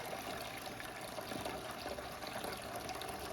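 Apple cider juice pours steadily from a press on a farm, a continuous trickling, splashing stream heard up close without any talk.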